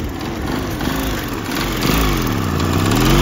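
A Suzuki CG125 motorcycle engine runs close by and is revved, its pitch rising and falling in a few swells over a steady loud drone.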